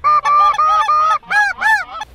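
A flock of snow geese honk loudly and close during a hunt, a rapid series of nasal, rising-and-falling calls in quick succession with short gaps, no voices.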